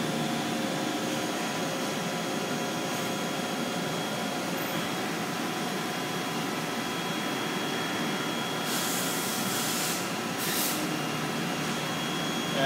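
A DMG Gildemeister CTX400 CNC lathe, shown in a sale listing, runs with its spindle being jogged, giving a steady close machine whir and hum with faint brief high hisses near the end and no talk.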